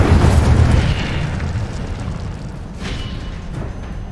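An Incendio fire spell blasts in Hogwarts Legacy: a loud, close burst that opens with a heavy boom and then fades into a rumbling, crackling roar.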